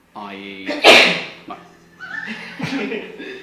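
A single sharp sneeze bursts out among animated voices in a comedic film scene, brief and close, surrounded by speech before and after.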